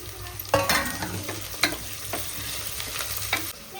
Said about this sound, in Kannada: ಉಳ್ಳಾಗಡ್ಡಿ ಫ್ರೈ ಆಗತ್ತವು ಈಗ